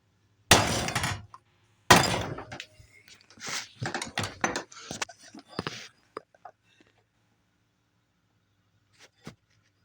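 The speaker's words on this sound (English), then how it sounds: "I need my big frickin' hammer." A big hammer pounds a metal workpiece clamped in a vise, about a dozen loud ringing strikes in irregular bursts, then lighter taps and a final isolated clink, heard up close in a workshop.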